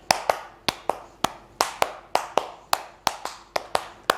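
A class claps hands together in counted patterns during a micro-teaching practice lesson: about sixteen sharp, near claps in short grouped bursts with brief pauses between groups, no talk over them.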